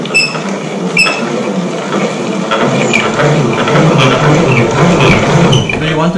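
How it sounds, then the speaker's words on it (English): A grinding machine crushes cacao nibs with a dense, continuous mechanical rumble and scraping whir, steady and loud, with a few sharp clicks near the start. "we have to grind the cacao nibs. We have machines"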